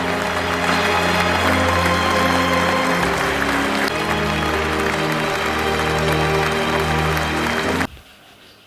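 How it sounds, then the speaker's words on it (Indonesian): Crowd applause for Master Ip in the film Ip Man 4, sustained dense clapping over orchestral music that cuts off abruptly near the end. "Semua yang melihat hal itu memberikan aplaus untuk Master Ip."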